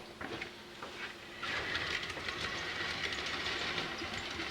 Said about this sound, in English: We just had the meat train and the Gon train come in